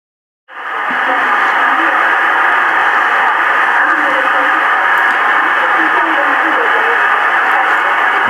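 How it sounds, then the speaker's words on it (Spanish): A radio receiver tuned toward a foreign-language station gives off loud, continuous hissing static that starts abruptly and stays steady and dense throughout. "estamos sintonizando una emisora de habla extranjera"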